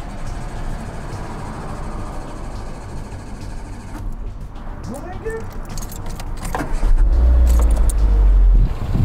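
A car engine cranks and catches with a loud low rumble after keys jangle close by, while people talk in Dutch throughout.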